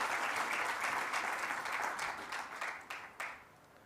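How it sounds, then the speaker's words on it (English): Applause from a conference audience honoring the MC, dense clapping that thins out toward the end into a few scattered final claps. "A big round of applause to our MC, Arthur."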